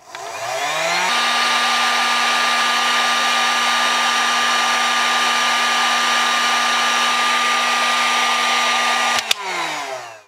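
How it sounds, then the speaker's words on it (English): A heat gun blows hot air onto a low-voltage DC wire splice in an RV, making a loud, steady whooshing roar with a constant whine. It holds for about eight seconds and then cuts off sharply. "I've not done that with this heat gun."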